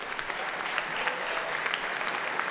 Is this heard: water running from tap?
no